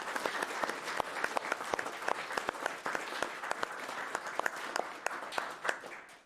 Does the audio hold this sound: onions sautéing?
no